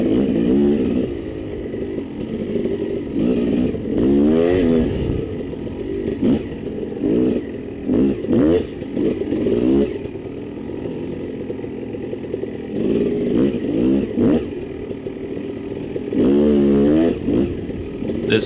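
A dirt bike engine revs and bogs repeatedly as it picks its way through a tight hare scramble woods track, loud and close, with rising throttle bursts, chattering idles and occasional clatter.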